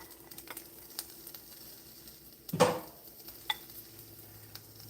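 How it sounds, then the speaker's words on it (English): Oil-coated shrimp dropped into a hot pan, a short burst of sizzle near the middle followed by a sharp tap, otherwise quiet with faint scattered clicks; close and fairly soft. "And now I'm going to put my shrimp in the pan."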